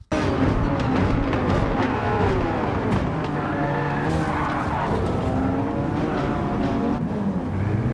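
A race car brakes hard in Gran Turismo 7, tires squealing and skidding through the braking zone while the engine note drops and rises as it downshifts, loud and close, with other cars' engines behind.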